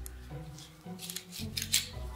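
Scissors snip through a creepy doll's hair to take samples, a few short crisp cuts over about two seconds, close and fairly quiet.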